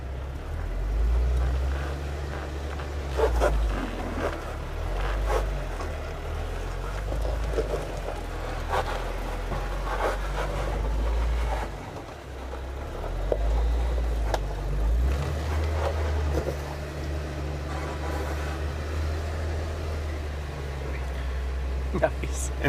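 Jeep engine rumbles low and steady as it crawls over the rocky Gatekeeper off-road trail obstacle, with occasional scrapes and knocks, while people talk over it.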